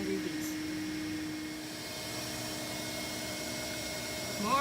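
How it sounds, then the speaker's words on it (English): Steady, fairly quiet suction drone of a bee vacuum pulling bees off brood frames during a hive removal, running unbroken with no voices. "More vacuuming. Yep, more vacuum."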